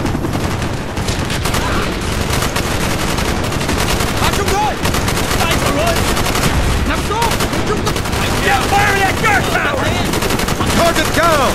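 Rapid machine-gun bursts and rifle fire pound continuously in a Call of Duty: Black Ops trench battle, loud and dense, with soldiers shouting faintly under the gunfire.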